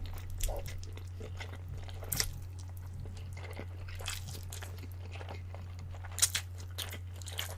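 Spicy Korean noodles eaten close to the mic, with soft intermittent crunches and wet chewing over a steady low electrical hum, a few sharper bites standing out near the end.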